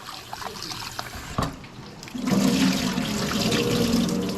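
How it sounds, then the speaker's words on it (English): Water runs and splashes steadily close by as rice is washed, swelling into a fuller, louder stream partway through, with a brief clatter near the middle and no talking. "Wash all that rice good and all"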